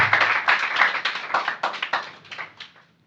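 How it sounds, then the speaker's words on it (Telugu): Steady rapid clapping from a church congregation, a dense run of sharp claps that fades out toward the end. "గట్టిగా చప్పట్లు కొట్టి దేవుని ఘనపరచుదామా? అందరం కూడా గట్టిగా చప్పట్లు కొట్టాలా"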